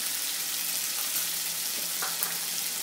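Tomato puree, coriander powder, turmeric, red chili powder and salt cook in hot oil, giving a continuous dense sizzle and hiss with faint stirring scrapes, steady and close, with no voices.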